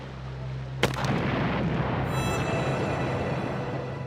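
A single sharp gunshot cracks out from a steamer's deck, followed by a long rumbling boom and echoing roar that slowly fades.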